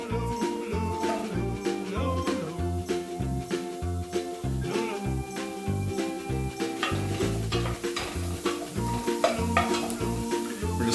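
Onions sizzle steadily in a hot pot while being stirred, with a continuous frying hiss and repeated scraping strokes throughout, close and fairly loud with no talking.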